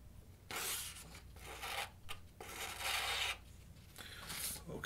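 Knife blade drawn across a Lansky Blade Medic sharpener in steady, raspy strokes, about four long scraping passes with brief pauses between, close and fairly loud with no talking.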